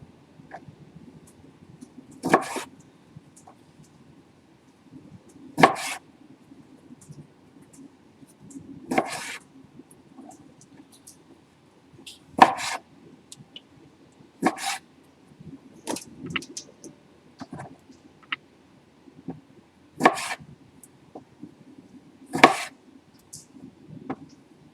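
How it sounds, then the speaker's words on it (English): Sharp knife chops strike a cutting board one at a time, roughly every two to three seconds, crisp and close in a quiet room. "We'll finish chopping these and then see how many more we need to fill our 12 jars."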